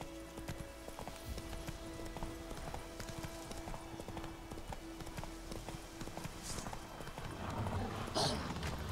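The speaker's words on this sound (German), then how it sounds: "Wo ist mein Pferdchen?" Horse hooves gallop in the video game The Witcher 3, a rapid, continuous clip-clop in a steady rhythm that grows louder toward the end.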